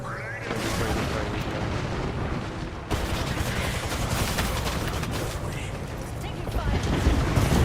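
Video game combat roars continuously with dense gunfire and heavy grenade explosions, loud and close and sustained throughout, with players talking over it.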